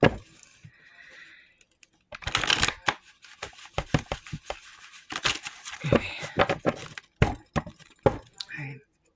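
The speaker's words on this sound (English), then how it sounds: "So I'm trying to make sure these are really shuffled" Someone shuffles a deck of playing cards close by in repeated bursts of riffling and snapping, with brief pauses between shuffles.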